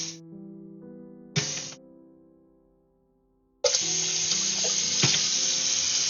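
A tap runs into a container in two short bursts, then flows steadily and loudly until the end, the hiss sitting over a lingering low musical tone.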